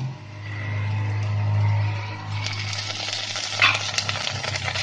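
Rice fries and is stirred in a pan for Bengali-style fried rice, giving a soft, steady sizzle over a low hum, with a few brief scraping clinks near the end.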